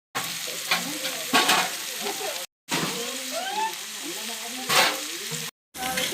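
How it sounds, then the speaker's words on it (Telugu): Onion pieces fry for chicken curry, a close, loud hissing sizzle with bubbling crackle and occasional scraping stirs, cut by brief silent gaps. "ఉల్లిపాయ ముక్కలు అయితే వేగిపోయినాయి."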